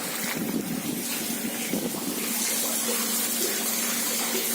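Rainwater from heavy Chennai rains pours into a well, a dense, steady rushing and splashing wash of water heard close up and alone, without talk.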